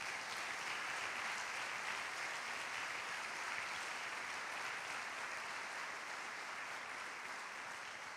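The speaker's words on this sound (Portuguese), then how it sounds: "aplauda o Senhor Jesus" Steady, dense applause from a church congregation honouring Jesus during a Portuguese-language sermon, a continuous even wash of many hands clapping with no pauses, moderately distant and fairly quiet.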